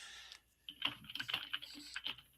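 Rapid typing on a computer keyboard, a burst of quick clicking keystrokes after a short pause, close but fairly quiet.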